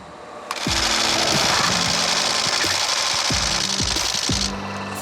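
A camera shutter fires in a rapid, sustained burst while photographing wildlife outdoors, a loud mechanical clatter running for several seconds without pause before cutting off.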